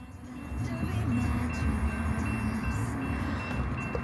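A train rolls past nearby with a steady low rumble and rail noise, a few tonal squeals or beeps riding on top, fairly faint overall.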